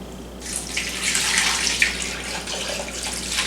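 Beef dip au jus liquid with caramelized onions poured into a slow cooker, a steady splashing pour that starts after a brief pause and runs on continuously, close and fairly loud, with no talking.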